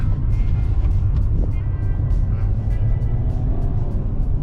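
Nissan Kicks e-Power car braking and cornering on a test drive course around pylons, a steady low engine and road rumble with faint tyre noise, heard from inside the cabin without talk.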